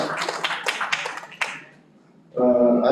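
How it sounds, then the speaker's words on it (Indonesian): Brief applause from an audience at a live session on stunting and poverty intervention in Makassar, a short ripple of clapping that fades out before other sound begins. "Kita beri tepuk tangan bagi kedua narasumber kita"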